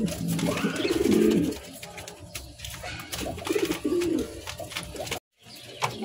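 Lahori pigeons, a breeding pair of blue birds, coo in low rolling bursts close by, with a steady murmur of other pigeons and faint fluttering behind, then a brief dropout near the end.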